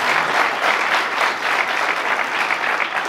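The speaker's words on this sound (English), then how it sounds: "give her a round of applause" Dense, steady audience applause from a political forum crowd in Michigan, loud and sustained throughout with many hands clapping at once and no pause.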